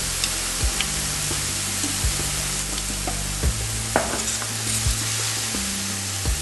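Sliced garlic fries in a pan with a dense, steady sizzle and crackle, broken by a few clinks and scrapes of stirring, loud and close with no voices.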